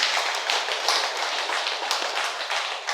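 An audience claps together in a meditation gathering, a steady dense patter of many hands held at a moderate level for the whole stretch without speech.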